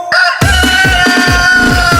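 A rooster's crow sits over a pounding budots disco remix beat, the crowing loud and drawn out above the rhythmic thumps.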